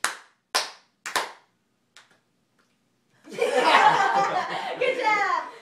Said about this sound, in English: It says clap your hands three times loudly and three times slowly.